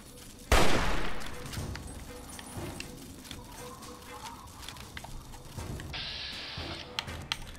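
One loud gunshot in Fallout 3 is aimed at a creature's legs, followed by quieter scattered game sounds and a few faint later cracks, with little talk.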